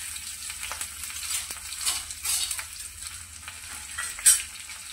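Onions frying in hot oil after garlic cloves and a red chili, a soft steady sizzle with light stirring scrapes and a brief sharper clink near the end.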